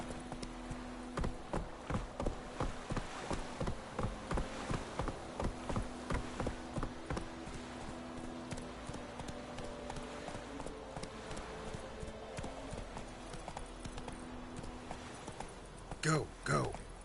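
A horse gallops in The Witcher III Wild Hunt, fast rhythmic hoofbeats thudding steadily through most of the stretch, with a voice calling out over them.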